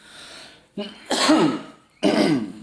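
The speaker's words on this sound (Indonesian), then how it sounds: "Sorry, batuk." Three rough coughs in quick succession, close and fairly loud, each a short harsh burst.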